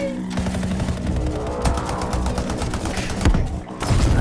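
Gunfire in a shooter video game shown at EA's E3 2018 press conference, dense bursts of rapid automatic shots and thuds layered over game noise, loud and continuous, with no talk.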